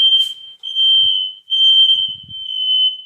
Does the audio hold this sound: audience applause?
no